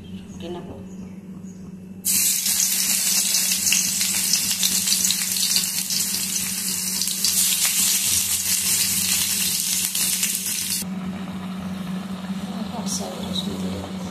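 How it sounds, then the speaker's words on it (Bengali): Boiled jute leaves fry with garlic on an induction cooktop, a loud sizzling hiss bursting in after two seconds of quiet and holding steadily, easing slightly toward the end. "এবার আমি রসুন দিয়ে এটা ফুটে নেব।"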